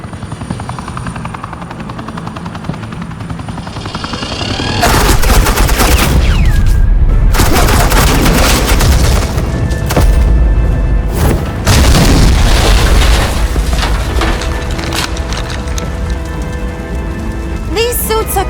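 Suppressing gunfire and heavy explosions erupt in a Batman Telltale video game scene, a loud dense barrage with booming bursts after a quieter opening, continuing with rattling fire and rumbling blasts.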